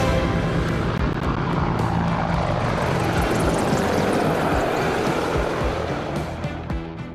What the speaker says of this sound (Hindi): इसमें एक लाइट कॉम्बैट हेलीकॉप्टर, 2 अपाचे और 2 एडवांस्ड लाइट हेलीकॉप्टर जोश और जुनून को चरम पर ले जाएंगे